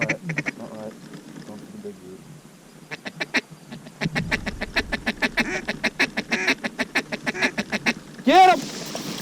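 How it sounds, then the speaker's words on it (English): A large flock of ducks quacks in rapid, repeated bursts, loud and close, with people shouting excitedly over the calls and a sharper honking cry near the end. "It's a lot of ducks."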